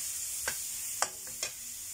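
Soaked shrimp stir-fried in a pan with cooked spices, a faint steady sizzle broken by three short scraping stirs of the spatula.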